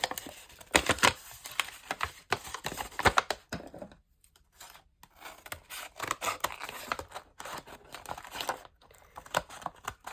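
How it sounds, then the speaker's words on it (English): Scissors cut through leftover decorative paper for a junk journal page, a run of close, crisp snips and crinkly rustles in uneven bursts, with a short pause partway through before the cutting picks up again. "But I'm going to cut."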